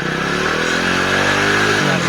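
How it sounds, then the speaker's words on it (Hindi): A 2010 Hero Splendor Pro motorcycle engine runs after a choke start, a loud, close, steady idle with an even putter that dips slightly in pitch near the end. "इस गाड़ी में चौक से मैंने स्टार्ट किया जिसकी वजह से इसमें थोड़ा सा आवाज आ रहा है।"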